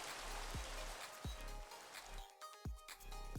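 Rain falls in The Chill Realm video game as a steady, close hiss with a few soft thuds and dull knocks spaced through it.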